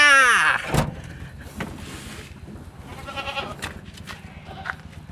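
A goat bought in a Javanese village gives one loud, close bleat right at the start, then the sound drops to quiet rustling outdoor background noise.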